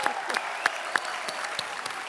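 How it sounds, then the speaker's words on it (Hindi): A studio audience on a comedy talk show breaks into steady, moderately distant applause, an even wash of clapping that continues for a couple of seconds. "डॉक्टर साहब के लिए जोरदार तालियां"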